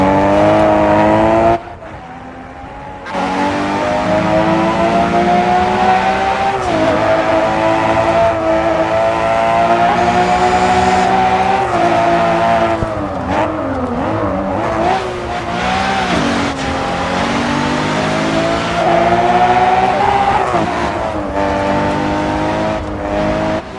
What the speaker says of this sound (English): This game sounds exactly like you would think a race would sound.